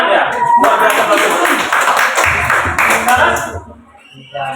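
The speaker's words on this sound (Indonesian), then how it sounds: "Tepuk tangan dulu untuk si Pela dulu." A group claps hands in applause for a child during a reading session, a dense burst of clapping lasting a few seconds, with voices talking over and after it.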